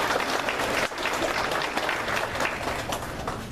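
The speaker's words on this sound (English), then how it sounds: "Give Dave a round of applause, because I'll tell you what." An audience at a Berks County gathering breaks into sustained applause, dense clapping held at a steady level throughout with no talk over it.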